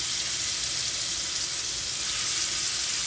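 Scallops sizzle in a hot pan, a steady broadband hiss of frying that holds evenly throughout at moderate loudness, with no talking over it.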